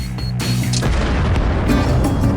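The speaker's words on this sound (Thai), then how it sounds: "แล้วถ้าระเบิดไดนามไมตล่ะ" A cartoon dynamite blast booms loudly, with a second powerful burst following a moment later and a rumbling roar carrying between them.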